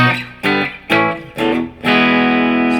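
Electric guitar chords strummed and left ringing with both pickups wired in series, four or five separate hits with a thick, slightly muddy sustained tone, close and fairly loud.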